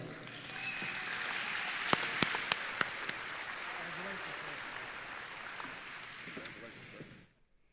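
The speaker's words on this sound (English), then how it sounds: "let's give Troy a round of applause." Audience at a state transportation department safety banquet claps in a steady round of applause, moderately distant in a large hall, with a few sharper individual claps standing out before it fades to quiet.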